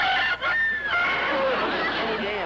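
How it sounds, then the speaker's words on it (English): Rooster crowing close by in a vintage TV sitcom, a bright drawn-out call with a brief gap, followed by further rising and falling cries. "Oh, it is a rooster."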